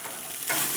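Hamburgers from locally raised beef sizzle on a grill, a brief hiss that swells louder and brighter partway through, close and without any talking.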